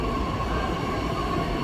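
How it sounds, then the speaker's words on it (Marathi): A Pune metro train produces a continuous, loud rail rumble with a faint steady whine, heard close and without voices. "ही राहिली पुण्याची मेट्रो."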